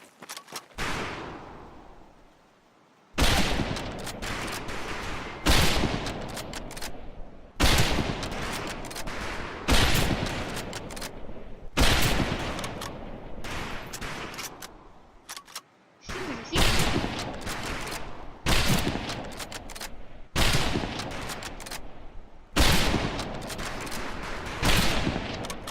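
Rifle volleys crack at a training range in Medal of Honor Pacific Assault, loud bursts of gunfire repeating in regular waves roughly every two seconds with brief decays between.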